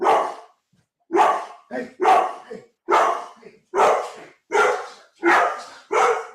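A pet dog barks loudly and close, about nine sharp barks in an irregular series with short pauses between them, and a man briefly calls out over them.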